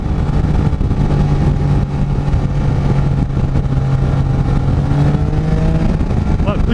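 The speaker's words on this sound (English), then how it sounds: "Drop it down in gear and give it some gas here." Can-Am Spyder F3-S engine revving as throttle is applied after dropping into gear, a loud steady engine drone with rising pitch sweeps toward the end and wind roar throughout.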